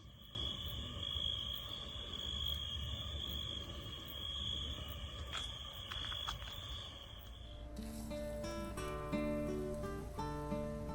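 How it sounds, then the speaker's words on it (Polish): Crickets chirp in a steady, dense high trill through a wild night by a Tuscan lake, with faint scattered sounds underneath and no voices. "Miałem powiedzieć, ale nie to same świerszcze są."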